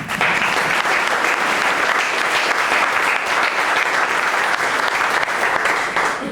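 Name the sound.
audience applause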